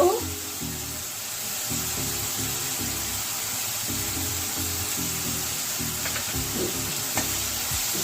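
Onion masala for doi katla sautéing in oil with a little sugar and salt, a steady sizzle under spoken commentary, with occasional stirring clinks.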